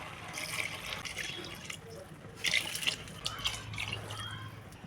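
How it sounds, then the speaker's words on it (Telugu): Water trickles and splashes in a steady, close stream with light dripping, with brief louder bursts of liquid partway through, as water is poured over basmati rice for pulao. "దీంట్లో వాటర్ పోసుకోండి"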